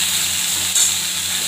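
Okra and potato frying in a pan of oil seasoned with cumin and black cumin, a steady close hiss of sizzling that holds evenly throughout with a slight swell near the end, no talking.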